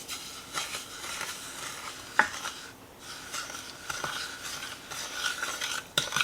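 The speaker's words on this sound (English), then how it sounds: "And I'm going to stir this up until it comes to a 240-degree temperature." Water and granulated sugar are stirred in a medium saucepan over low heat, with a spoon scraping and clinking against the pan in soft, irregular strokes and a few sharper knocks, fairly close and quiet, with no talking.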